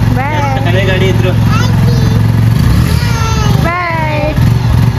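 A motorbike engine runs at a steady idle after starting, a low continuous drone close by, with people talking loudly over it throughout.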